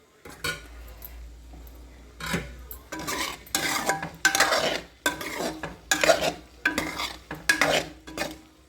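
Boiled eggs frying in a pan for egg karam, heard as a run of loud, rhythmic scraping stir strokes over a light sizzle, growing busier after a quiet start.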